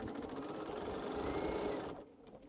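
Sewing machine stitching the corner of a cotton quilt block, a fast steady whirring run for about two seconds that then stops, fairly close and alone.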